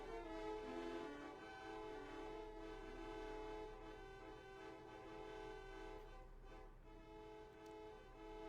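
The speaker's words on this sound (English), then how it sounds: "I never noticed it before, the car honking noise." Traffic ambience from the Deltarune video game plays quietly, a sustained, steady horn-like tone blaring with layered harmonics over a low rumble.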